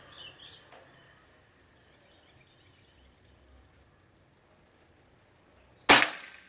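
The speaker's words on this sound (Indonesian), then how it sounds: "Tembakan kelima, terakhir ini yang pakai Hercules." A Bocap Pajero Gun Gen 5 PCP air rifle with a sonokeling stock fires a Hercules pellet, one loud, sharp report near the end after several quiet seconds, with faint bird chirps early on.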